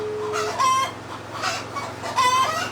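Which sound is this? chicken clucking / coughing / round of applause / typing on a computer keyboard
chicken clucking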